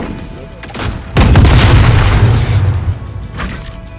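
A loud booming flashbang grenade detonation in a video game shooter, a sudden heavy blast with a rumbling tail lasting a couple of seconds, preceded by quieter game ambience.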